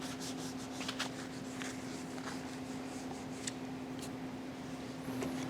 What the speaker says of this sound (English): We want to break the edge with a sanding block and then come back with some sandpaper